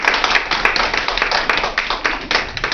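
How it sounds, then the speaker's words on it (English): A class applauds a student performance with brisk, close clapping from a modest group of hands, steady and fairly loud throughout with no talk over it. "would you please let them know by giving them more applause?"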